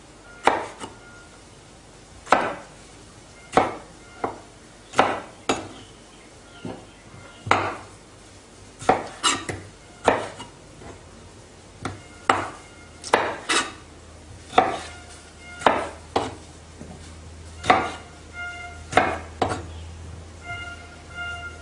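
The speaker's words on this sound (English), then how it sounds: "Just slice up the tomatoes." Tomatoes are sliced with a knife on a cutting board: about twenty crisp, close chops in a steady, unhurried rhythm roughly one per second, with no talking.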